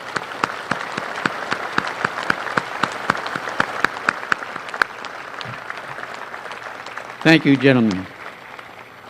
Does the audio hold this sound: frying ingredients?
no